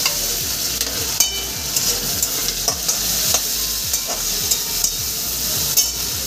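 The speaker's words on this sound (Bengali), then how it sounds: "টমেটো কুচি দিয়ে আমি সুন্দর করে একটু ভেজে নেব।" Chopped tomato frying with onion and garlic in a pan, a steady close sizzle broken by repeated scraping stirs at a loose rhythm, with no voices.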